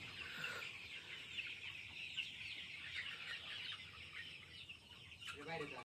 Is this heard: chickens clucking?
yes